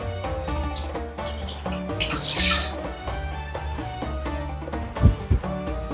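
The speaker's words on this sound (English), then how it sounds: "just gonna wash the hands a little bit." A kitchen tap runs while hands are washed under it during salad preparation, with a steady broadband water hiss that swells for a moment midway, plus a couple of sharper splashes and clunks near the end over faint background music.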